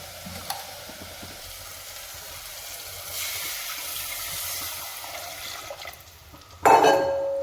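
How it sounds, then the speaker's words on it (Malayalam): Tamarind water squeezed from tamarind pours into a simmering fish curry seasoned with asafoetida and pepper, giving a steady soft hiss and bubbling that swells midway, then a sharp louder splash near the end. "എന്നിട്ട് ഞാൻ ഇനി പുളി പിഴിഞ്ഞിട്ട് പുളിവെള്ളം ഇട്ട് കൊടുക്കാം"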